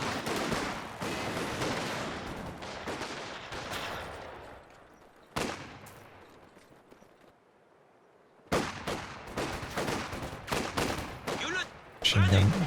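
Machine gun fire in the World War II strategy game Company of Heroes 2 during a 2v2 match. Bursts of rapid fire and sharp shots come in clusters, separated by a quieter lull, with a commentator speaking throughout.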